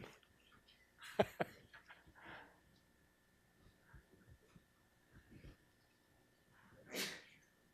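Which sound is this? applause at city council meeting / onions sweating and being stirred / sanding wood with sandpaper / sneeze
sneeze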